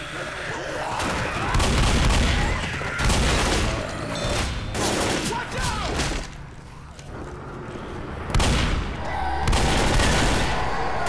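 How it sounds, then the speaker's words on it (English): Video game gunfire from Left 4 Dead, with loud, dense bursts of repeated shots and booming impacts that run almost the whole time and dip briefly between volleys. "And my mouse is randomly firing for no reason."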